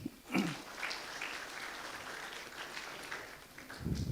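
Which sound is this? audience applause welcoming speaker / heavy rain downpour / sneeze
audience applause welcoming speaker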